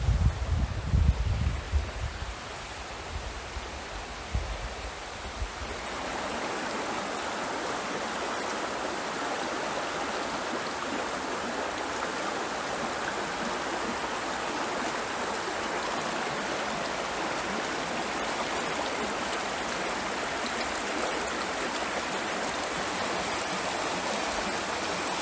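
A stream of water flows over rocks on a trail in a local nature preserve, a steady soft rushing wash that holds evenly throughout, with some low wind rumble and handling thumps in the first seconds.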